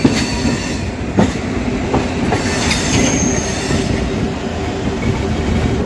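A passenger train runs along the Secunderabad–Siddipet line, a loud, close, continuous rumble with rhythmic wheel clatter over rail joints and occasional squealing of wheels, with no voices.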